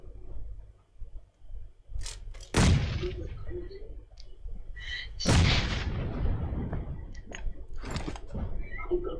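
Bombing in the PUBG Mobile red zone: two heavy booming blasts, each with a long rumbling tail, preceded by sharper cracks, fairly loud and close, with quieter mechanical noises between them.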